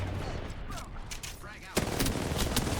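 Gunfire in a video game match: a couple of sharp bursts of shots over a steady background, with a louder cluster of rapid reports near the end, and some voice in the mix.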